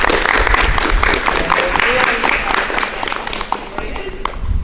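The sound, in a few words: applause at school online assembly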